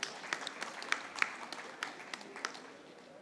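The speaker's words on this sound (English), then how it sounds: "Let's have a huge round of applause, ladies and gentlemen" A conference audience applauds panelists at an electric vehicle session, a steady spread of many claps with a few sharper individual claps standing out, moderately distant and fairly faint.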